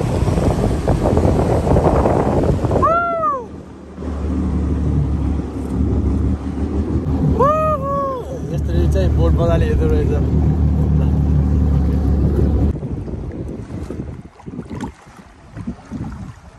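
A water bike ride in Dubai: a steady, close engine drone runs for most of the stretch, mixed with wind buffeting and splashing water, while voices speak over it.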